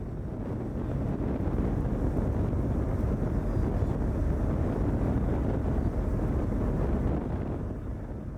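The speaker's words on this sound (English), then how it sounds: "So I and a friend of mine are on a ferry to Sado Island." Strong wind buffets the microphone on a ferry crossing to Sado Island, Japan, over a low, constant engine rumble. The roar is loud and unbroken throughout, with no voices.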